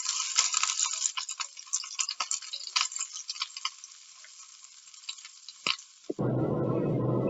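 A second batch of meatballs sizzles in hot oil in a pan for meatball and tomato soup, crackling with sharp spits and pops close to the mic before the sizzle cuts off into a softer low rumble.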